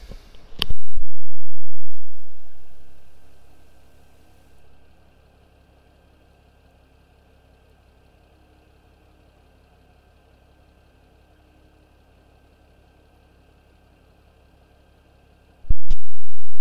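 A 102-horsepower 3000-series tractor idles steadily in Farming Simulator, a low continuous engine hum running almost the entire length, with a brief loud burst near the start and another at the very end.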